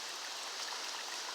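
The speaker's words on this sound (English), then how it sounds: "There's the creek." Creek water flowing under a small wooden footbridge on a woodland hiking trail, a steady, even rushing wash with no breaks, close by and alone.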